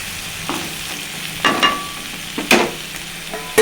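Tomato pieces and chana dal cook in a pan, with a soft sizzle underneath and several distinct scraping stirs of a spoon against the pan at irregular intervals.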